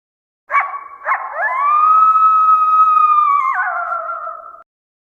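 A coyote gives two short yips, then a long, rising, sustained howl that holds steady and then drops in pitch before cutting off. The call is loud and close, with no other sound.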